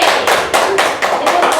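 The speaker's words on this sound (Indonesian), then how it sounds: "yang terakhir tepuk tangan untuk kita bertiga." An audience gives applause to three speakers on a campus talk show, delivered as loud, close bursts of clapping in a quick, regular rhythm.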